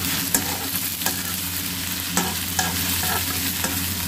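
Onions sizzling in a little oil in a pan, a close, steady frying hiss broken by several sharp scrapes and clacks of a spatula stirring, with no talking.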